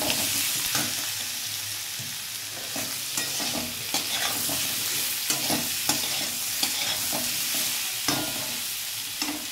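Potato and turnip pieces frying in a pan with salt and turmeric, a soft continuous sizzle broken by repeated scraping strokes of a spatula stirring, fairly close and moderate in level.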